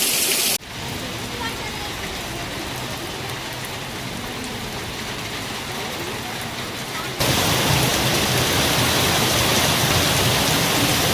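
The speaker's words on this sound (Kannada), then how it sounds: "ವಿಭಾಗದ ಹಲವು ಗ್ರಾಮಗಳಿಗೆ ಬುಧವಾರ ಆಲಿಕಲ್ಲು ಸಹಿತ 1 ಇಂಚಿಗೂ ಅಧಿಕ ಮಳೆ ಸುರಿದಿದೆ." Heavy rain with hail during a thunderstorm in a Kodagu village, a loud, dense, continuous roar of drops hammering surfaces that swells even louder partway through, with no talk over it.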